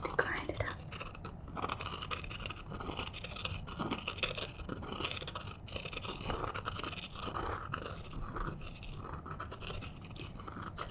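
Close-up ASMR grinding of something by hand, a steady soft scraping and crunching texture with gentle whispering throughout, quiet and intimate.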